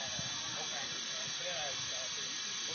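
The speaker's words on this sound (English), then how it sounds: "So as you can see, we're getting steam." Steady steam hiss from a Stanley steam car as it builds pressure during startup, a constant broadband rush filling the whole clip at moderate level with a faint voice underneath.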